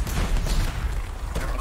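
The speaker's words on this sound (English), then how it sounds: "Titan here just blasted the wall out." Titan enemy in the video game Anthem blasting a wall apart, a dense rumbling roar of explosive noise filling the short span with rough low-end weight and scattered crackle, loud and continuous.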